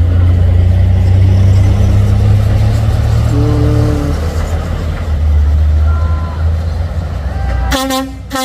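A heavily loaded Hino truck labors with a deep, steady engine drone, rising pitch as it revs, then a brief burst of horn toots near the end; other traffic rumbles around it.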